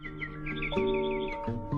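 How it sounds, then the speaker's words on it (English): Small birds chirp in quick repeated tweets over sustained musical tones on a recording, the bright chirps sitting clearly above the soft accompaniment. "the bird chirping was accidentally recorded for the demo take"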